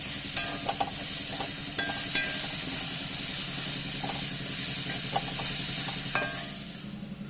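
Chilli and salt being sautéed in a pan give a loud, continuous sizzle, with scraping stirs and clicks of a spatula repeating throughout at close range and no voices.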